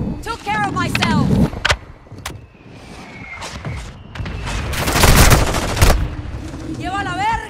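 Video game gunfire erupts in rapid bursts and booming blasts, loud and close, with a heavy volley near the middle, mixed with voice lines, radio callouts and a player talking.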